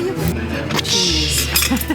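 Glasses clink together in a toast at a restaurant table, a few light bright chinks close by amid restaurant chatter and people talking.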